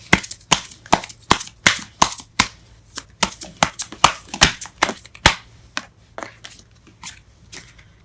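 Tarot cards being shuffled and pulled, a rapid series of sharp, crisp slaps and snaps close up, irregular bursts that thin out toward the end.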